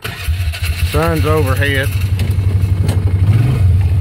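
A four-wheeled ATV engine runs throughout a midday outdoor ride, holding a steady low idle-like drone with rough pulsing, while someone talks briefly over it early on.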